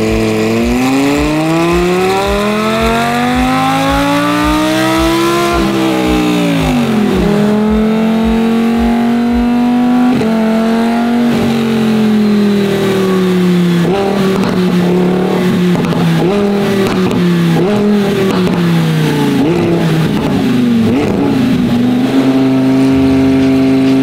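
A naturally aspirated Honda Civic running E85 on a dyno baseline pull: loud, close engine revving with steadily climbing pitch, a brief dip, then sustained high-rpm drone with no talk.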